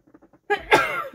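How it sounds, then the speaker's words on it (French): A single person's sneeze at close range: a few faint breathy intakes, then a sharp voiced burst trailing off into a short vocal tail. "Je vais éternuer."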